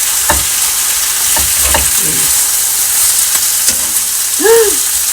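Crispy pork and water spinach stir-fried in a hot pan, giving a steady loud sizzle with repeated scraping and tossing strokes of a spatula, plus a few brief metallic clinks.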